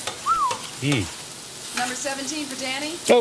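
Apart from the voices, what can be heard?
sizzling grill cooking a hot sub at Jersey Mike's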